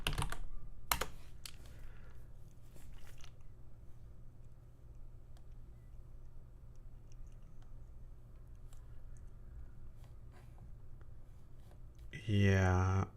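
Keys clatter on a computer keyboard while shortcuts are searched in Krita settings during a livestream, quick soft taps spread across the stretch with low background hum and a brief louder sound near the end.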